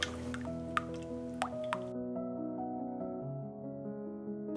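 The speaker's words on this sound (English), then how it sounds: "whisking in soaked gelatin before pouring the mixture over the white chocolate" Warm gelatin and juice mixture poured over white chocolate, a soft liquid trickle with a few bright drips early on over a steady low hum, fairly quiet and close, with no talking.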